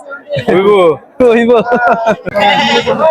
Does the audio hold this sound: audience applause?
no